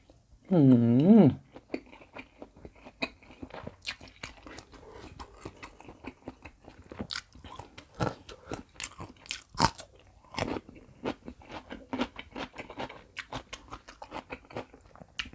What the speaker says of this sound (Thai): สำหรับที่ไอกินก็คือรสเผ็ดนะคะ กินกับขิงดอง